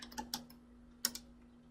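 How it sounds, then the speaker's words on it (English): A few soft, scattered keystrokes sound on a computer keyboard during data entry in chemistry modeling software, close by and quiet over a faint steady hum. "Go ahead and type it in."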